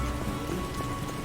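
Rain falling in the video game The Witcher, a steady soft patter of drops on surfaces, continuous and fairly quiet with a faint tonal hum beneath and no talking.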